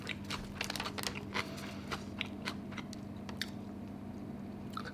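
Close, crisp crunching and chewing of spicy kimchi, with rhythmic bites that are loudest early on and then fade into softer, wetter chewing.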